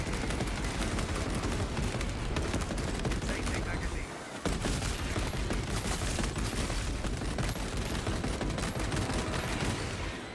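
Continuous rapid fire from a shoulder-mounted gun shooting piercing bullets in the Space Marine 2 video game, a dense, loud barrage with a brief gap near the middle, under game noise.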